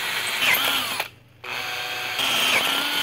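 Power drill driving a bit through metal to make two bolt holes, two whirring bursts separated by a short pause, close and loud.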